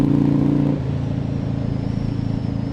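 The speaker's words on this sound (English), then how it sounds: "I just love getting out and riding on my bike" A motorcycle cruising along a quiet back road, its engine droning loud and steady with a throaty, pulsing rumble, easing off slightly partway through and then holding an even pace.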